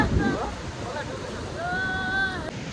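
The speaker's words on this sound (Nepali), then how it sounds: "खतरा खोला यार" A fast, dangerous-looking river rushes near the Dupcheswor Mahadev shrine in Nuwakot, its steady broadband roar filling the whole stretch while people talk over it.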